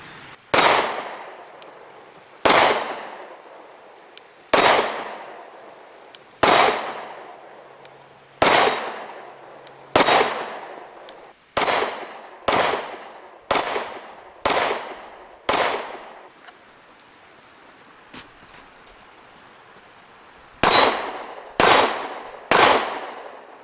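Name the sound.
pistol shots ringing an orange 10-inch steel gong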